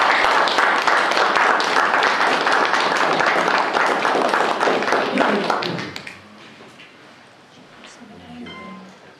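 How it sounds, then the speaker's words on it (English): Warm audience applause at a gathering, a dense, loud round of clapping that fades out after about six seconds, leaving quiet room sounds and faint speech. "let's give a warm round of applause before he even speaks"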